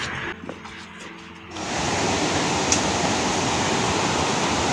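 Cachoeira dos Anjos waterfall in Chapada dos Veadeiros: after a quieter opening, a loud, steady broadband roar of falling water swells in and stays close and constant.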